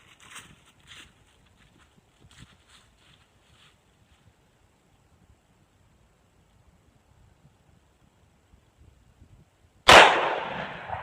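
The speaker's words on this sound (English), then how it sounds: "The next shot will be at 14 feet, and I'm going to take it a little further down" A single sharp gunshot, fired at a target from 14 feet, cracks loudly near the end after a long quiet stretch with faint outdoor rustling.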